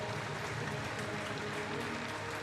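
A crowd at a Hong Kong track cycling Nations Cup applauds the women's youth points race champion, a dense, continuous wash of clapping that holds at an even level throughout, heard from a distance across the velodrome.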